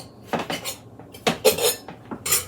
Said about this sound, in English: I just like to run the knife around the edges and then pop them them out of their pan.